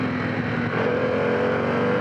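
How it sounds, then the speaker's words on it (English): A 2021 Harley-Davidson Pan America Special adventure motorcycle engine revs steadily in third gear around 4,500 to 5,000 RPM, a loud continuous droning roar with a rising pitch that holds through to the end, no voices over it. "This bike definitely wants to rev out a little bit more."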